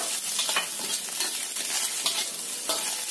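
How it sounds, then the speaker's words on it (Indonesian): Chicken, sausage and shrimp hit a wok with garlic and shallots, giving a continuous loud sizzle with scraping stirs and clinks of a spatula, no voices. "masukkan ayam, sosis, dan juga udangnya"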